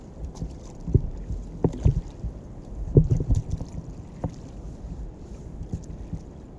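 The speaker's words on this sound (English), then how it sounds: "here comes the wind again" Wind gusts rumble across the water around a paddleboarder in fog, low buffeting bursts against the microphone with irregular thumps and splashes, fairly close and with no talking.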